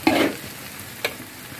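Rice for nasi goreng is stir-fried in a pan, with a burst of sizzling and a spatula scrape at the start and a second brief stir about a second later.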